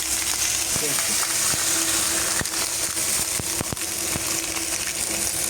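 Antrikot beef steak cooks in a large cast iron pan, releasing its juices with a steady, close hiss of sizzling broken by scattered pops and crackles, with no talk over it.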